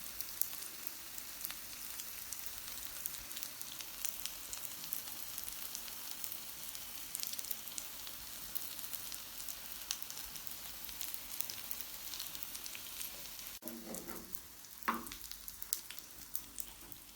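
Chicken vegetable kebabs fry over medium heat, a soft, steady sizzle and crackle that runs continuously and stays fairly quiet, with a couple of brief utensil scrapes near the end.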